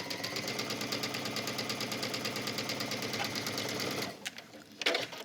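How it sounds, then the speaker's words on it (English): A sewing machine runs steadily, stitching a rolled hem around a wrap dress with a fast, even mechanical chatter for about four seconds, then stops, followed by a few faint handling clicks. "And then keep stitching all the way around."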